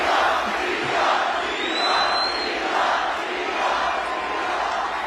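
A rally crowd at a Donald Trump event before the election chants Elon Musk's name, a loud, continuous mass of voices swelling in a steady rhythmic chant with a faint whistle near the middle.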